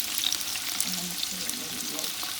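Tomatoes frying in a pan for an Italian pasta sauce, giving a continuous bright sizzle and crackle with faint stirring scrapes, close and steady, no talking.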